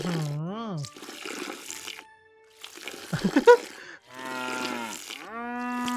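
A cow in the farming video game EverDream Valley moos several times, loud and close, while being milked. Wet splashing milk sounds and short squirts fall between the moos.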